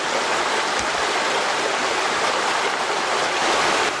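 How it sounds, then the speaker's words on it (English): Steady, full-bodied rush of falling water, constant and close, with no voices or other sounds breaking through. "there's all these beautiful waterfalls too"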